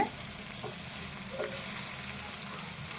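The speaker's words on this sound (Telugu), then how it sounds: "ఇది కలుపుకుందాము బీరకాయ" Ridge gourd and meal maker curry being stirred in a pan: soft steady sizzle with light scraping strokes of a spoon, fairly quiet and close, no speech.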